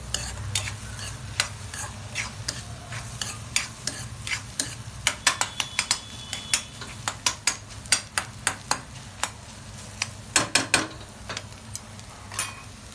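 Egg bhurji fries in a pan while a spatula scrapes and taps against the metal in quick irregular bursts, crisp and close over a low steady sizzle.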